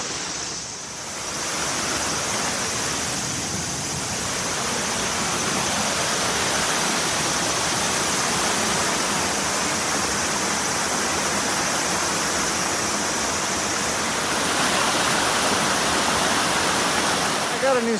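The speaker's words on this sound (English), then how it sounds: "Cool air coming down this waterfall here." A waterfall in Japan roars as a steady, loud broadband rush of falling water, continuous and close for the whole stretch, with a brief quieter moment at the very start.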